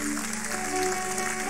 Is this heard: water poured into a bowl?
no